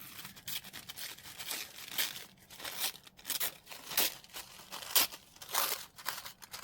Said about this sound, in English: I am going to rip it slightly